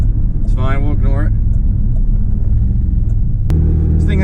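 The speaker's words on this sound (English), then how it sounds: "seems to overall run like a decent truck" A 1996 pickup truck with a check engine light on and slight backfiring runs steadily while driving, producing a loud, constant low rumble, with someone talking briefly over it near the start.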